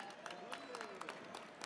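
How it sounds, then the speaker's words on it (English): Faint audience applause for a dancer at a Lunar New Year reception, a soft patter of many hands clapping continuously in the distance beneath a speaker's voice. "Can we give her another round of applause?"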